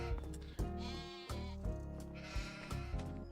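Sheep bleat repeatedly in a barn in the video game Farming Simulator 25. The bleats come in quick, overlapping bursts and stay fairly clear, with no talking.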